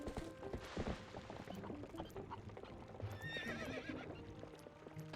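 Epona the horse in The Legend of Zelda: Twilight Princess HD, hooves clip-clopping in a quick gallop and then a high, wavering neigh, fairly quiet with game sounds around.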